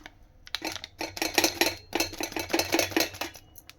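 Thick chickpea dosa batter with turmeric stirred in a bowl, giving a steady run of wet clicking and scraping strokes against the bowl, close and fairly loud, with short pauses between bursts.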